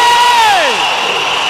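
A large crowd cheering and shouting loudly at the Kenyan presidential swearing-in ceremony for William Ruto, a dense roar with a rising and falling whoop over it.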